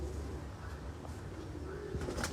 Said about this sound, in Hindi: ये जी 9वां कबूतर।